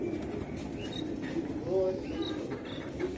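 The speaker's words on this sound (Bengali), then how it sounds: "দুইটা বিআরপি লিমিটেড ক্লাবের দুইটা কবুতর" Two BRPFC club racing pigeons give soft, low, repeated coos close by, with faint chirps and background murmur around them.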